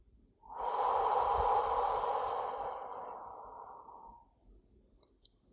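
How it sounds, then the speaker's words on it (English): One deep, slow exhale through the mouth, close and soft, swells quickly and then fades over about three and a half seconds into quiet. "I'm breathing out."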